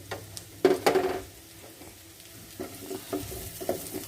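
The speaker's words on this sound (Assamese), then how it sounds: "অলপ সময় আলু ভাজি কৰি থাকিম মছলাবিলাকৰ লগত।" Potatoes frying with cumin, coriander and turmeric masala in a pan, with loud clattering stirs of a spoon early on, then a quieter continuous sizzle punctuated by lighter scrapes.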